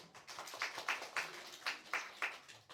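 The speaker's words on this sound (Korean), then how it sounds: "자, 박수." A church congregation at a Sunday Bible-chronicle lesson claps in a steady, evenly spaced rhythm, faint and somewhat distant, with a soft murmur beneath.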